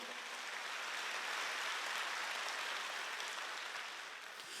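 A church congregation claps in a steady, dense wash of applause at a Sunday worship service, continuous and even for several seconds with no voices on top.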